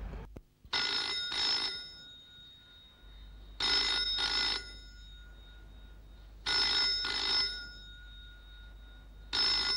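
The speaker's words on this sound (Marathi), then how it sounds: "फोन तरी उचलायचा ना" An old-style telephone bell rings in a home, in three separate double-ring bursts with pauses between them. It is clear and fairly loud, with no talking.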